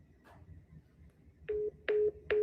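A phone dials a call: three short, clear keypad tones beep in a steady sequence after a quiet stretch of faint room noise.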